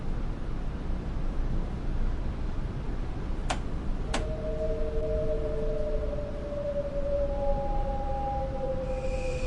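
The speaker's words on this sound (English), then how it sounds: "I love the brake sounds and the whining." A Metro North train in the video game Train Sim World 6, its brakes whining in long sustained tonal squeals that slide slowly in pitch over a steady rumbling running noise, preceded by two sharp clicks, with no talking.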